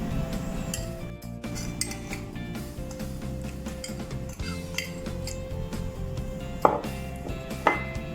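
Dressing is poured over a Mexican salad and tossed in a bowl, with utensils clinking and scraping close by in a steady, busy rhythm and a couple of sharper clinks near the end.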